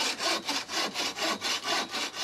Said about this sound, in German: Oder man sägt ihn hier vorne mit an.